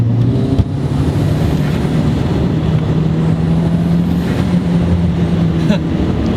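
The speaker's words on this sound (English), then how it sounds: "That turbo noise is the best." A turbocharged 2.0-litre VW Jetta rolls downhill with a steady engine drone and road roar from inside the cabin, plus a faint high turbo whine. The noise stays constant with no breaks.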